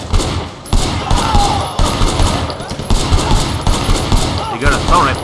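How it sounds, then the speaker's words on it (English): Sustained assault rifle fire during a shootout in the game Sleeping Dogs, rapid bursts of loud automatic gunshots rattling on continuously with a voice talking faintly underneath. "He got a assault rifle with him."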